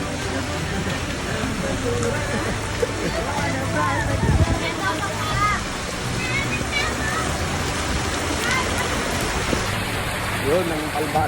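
Steady rain pours down in a continuous hiss, with murmuring voices and scattered birdcalls faintly mixed in.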